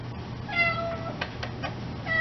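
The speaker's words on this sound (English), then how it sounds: "This is my kitty cat." House cat meowing indoors, a few soft, faint meows across a couple of seconds over a low background hum.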